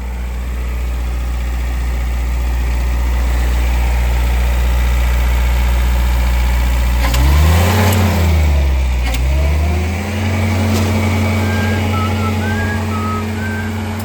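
A Marklift 62c 4x4 lift with a leaking hydraulic line runs near and loud, its steady engine drone rising and falling as the machine drives backward and then forward, with a faint beeping near the end.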